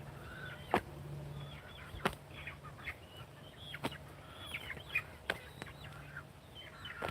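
Young Brahma roosters give scattered clucks and short calls, fairly faint and distant, broken by several sharp clicks over quiet farmyard background noise.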